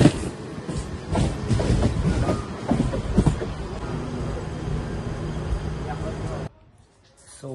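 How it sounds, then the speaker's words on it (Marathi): A 12-car fast local train in Mumbai bound for Chhattisgarh rumbles along with rhythmic rail clatter, loud and near, under talk, before dropping abruptly to near quiet at the end. "छत्रपति शिवाजी महाराज टर्मिनस जाने वाली 12 डिब्बों की तेज लोकल है"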